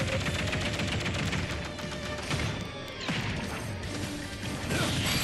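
Shooting attacks in Super Smash Bros Ultimate crackle as dense rapid hits and crashes over busy game music, continuous and loud throughout.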